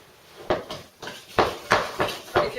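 Spoon creaming ingredients by hand in a bowl for chocolate Afghan biscuits, a series of six knocking, scraping strokes in an uneven rhythm, close and clear with no talking.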